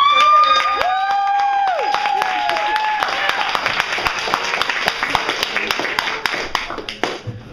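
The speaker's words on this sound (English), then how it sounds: "Everyone, big one round of applause." An audience at a young girl's performance of a song claps and cheers, dense applause that fades gradually, with a whistle-like tone and a voice over the start.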